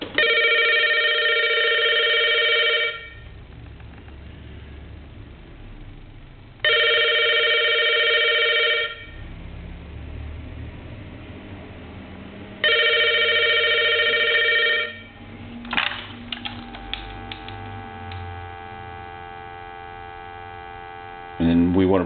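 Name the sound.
old wall telephone bell ringing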